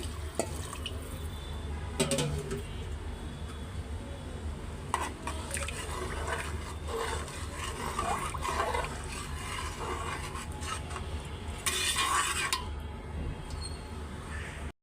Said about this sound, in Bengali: আন্দাজ মতো পানিটা এখন দিয়ে দিতেছি